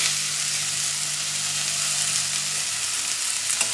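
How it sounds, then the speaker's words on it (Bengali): Spinach leaves dropped onto lightly fried onions set off a steady, close sizzle that holds evenly throughout, with a faint low hum under it and no voices. "পেঁয়াজগুলো একটু হালকা করে ভেজে নিয়েছি খুব সামান্য ভেজে নিয়েছি এবার পালং শাকগুলো দিয়ে দিচ্ছি"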